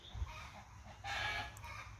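Chickens cluck softly in a garden, scattered low calls over a quiet outdoor background.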